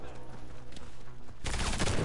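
M99AS submachine gun firing in the shooter game Warface, with a dense burst of rapid, loud automatic fire cutting in over quieter game background partway through.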